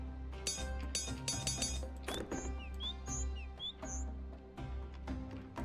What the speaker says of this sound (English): What bird makes that noise?